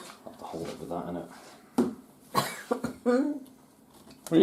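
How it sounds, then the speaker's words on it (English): A few short coughs break out close by between bits of talk and light clattering in a kitchen while bread is cut. "What are you coughing for?"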